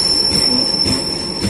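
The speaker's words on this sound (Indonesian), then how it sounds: "suara remnya berderit" High, steady metallic squeal of the Serayu Malam train's brakes, KA 287 bound for Pasar Senen with six economy-class cars, as it pulls into Maos station, a piercing sustained tone over low rumbling wheels and rail noise.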